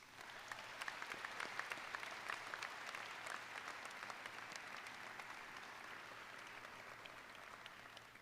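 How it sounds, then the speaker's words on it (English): Sustained applause from a large graduation audience at a high school commencement ceremony, a dense steady clatter of clapping that holds at an even level for the full stretch, with no voices rising above it. "please give your support system a round of applause"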